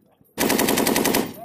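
A machine gun fires one rapid burst of about a second during a Marine live-fire exercise at an air force base, sharp and loud against a quiet background.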